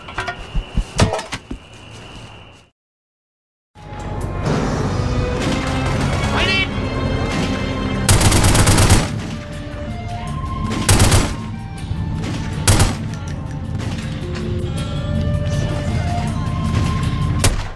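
Bursts of gunfire in The Godfather: The Game video game, single shots and rapid volleys with booms, punctuating a continuous mix of action sounds and occasional voices, after a brief silence.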